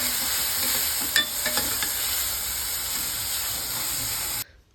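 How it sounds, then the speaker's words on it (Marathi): Finely chopped onion cooking in a pan for masoor curry, a steady loud sizzle with a few spoon-stirring scrapes early on, cutting off abruptly near the end. "आता हा कांदा थोडासा ट्रान्सपरंट होईपर्यंत याला शिजवून घ्यायचा आहे."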